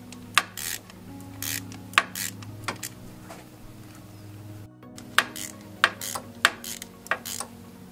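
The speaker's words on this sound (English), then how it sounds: "we're going to remove the bolt with the Torx 40 in our case, get it loose" A ratchet with a Torx 40 bit works loose the water pump pulley bolt on a Ford 1.6 EcoBoost engine, giving a series of sharp metallic clicks and knocks over a steady background hum.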